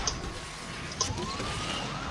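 Police siren from the racing game Asphalt 9 Legends, a faint wailing tone rising and falling behind engine and road noise, with brief high electronic blips.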